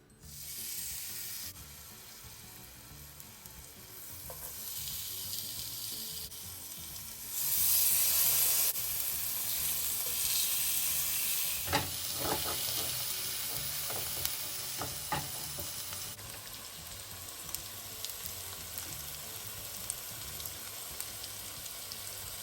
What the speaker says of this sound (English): put some oil in the pot and then add our pork chops